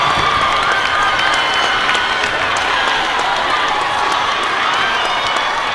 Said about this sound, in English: Listen to the Temple crowd in Philly.